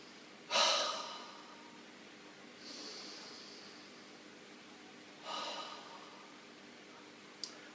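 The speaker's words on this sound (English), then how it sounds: "breathing so your chest and shoulders stay still and your tummy's going in and out" Deep belly breathing: slow, slightly noisy breaths drawn in and let out through the nose, three distinct close breaths spaced a few seconds apart, fairly soft, with a faint click near the end and no talking.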